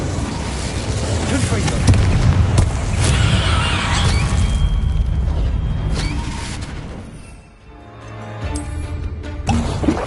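Incendio fire spell cast in Hogwarts Legacy on PS5, a loud rumbling burst of magical flame with booming, crackling game effects that fade briefly before rising again, under a spoken voice.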